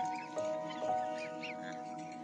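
A lone duck living among black swans gives a few short quacks, close and moderately loud, over a steady background hum.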